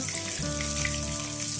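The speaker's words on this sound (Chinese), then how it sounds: "油温升高后倒入虾，把虾稍微煎一下" Shrimp fry in hot cooking oil in a pan, giving a brief, steady, soft sizzle.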